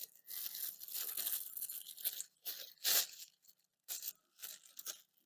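Scissors snip through the plastic handles of a plastic bag in close, crinkly bursts: a longer stretch of cutting, then several short separate snips with brief pauses between them, no talking.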